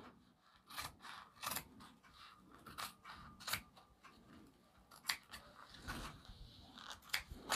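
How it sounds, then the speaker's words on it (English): Curved scissors snip through glittery vinyl while trimming an embroidered patch, a quiet close series of irregular crisp clicks and crunchy cuts with brief pauses between. "I'm going to come through with the curved scissors so that I can get as close as possible."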